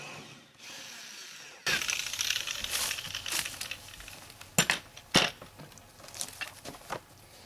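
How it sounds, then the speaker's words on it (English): A power drill whirs steadily as it bores into a log, with a few sharp knocks and crackles breaking through the grinding noise. "Now what I'm going to do is I'm going to drill my hole."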